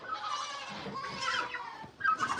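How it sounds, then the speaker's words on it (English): Nigerian dwarf goats on a farm bleat in a few nasal, wavering calls, close and fairly quiet, with a short pause before a final bleat. "Holy smokes, goats galore."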